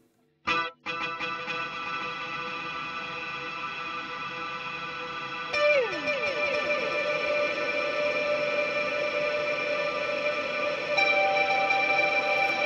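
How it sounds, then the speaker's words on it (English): A sustained electronic tone from a Valhalla Supermassive delay and reverb plugin washes into a dense, endless reverb tail, with pitch-shifting echoes sliding downward and smearing into a continuous shimmering drone. "Delay forming into a infinite reverb."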